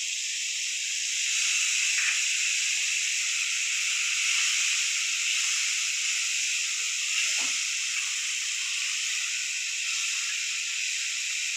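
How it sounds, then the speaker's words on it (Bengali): Hot water poured into frying tomato and ginger in a pan gives a steady, bright hiss of steam and sizzle that holds evenly throughout, close and fairly loud, with no talk. "অল্প একটু গরম জল দিলাম।"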